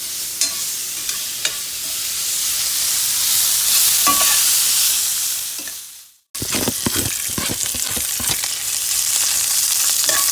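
Carrots and red peppers stir-frying in a hot pan, bibimbap vegetables, with a steady loud sizzle broken by a brief drop to near silence around six seconds, then sharp scraping stirs and tossing clatters over continued sizzling.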